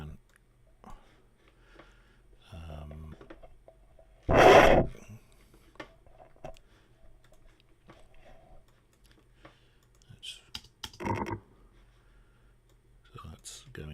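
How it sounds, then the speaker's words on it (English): A sound effect is processed so it seems placed inside ice, as captured by a hydrophone. One loud, dense burst stands out amid quiet, sparse clicks and faint rustles, with a few smaller taps afterward. "so that's going into ice, recorded from a hydrophone."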